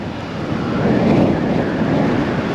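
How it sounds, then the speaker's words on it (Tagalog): Strong wind from a typhoon roars against the microphone in a deep, buffeting rush that swells and stays loud throughout. "ang lakas po ng hangin."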